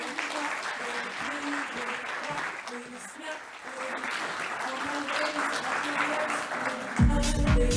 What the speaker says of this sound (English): let's give a big round of applause for Mrs.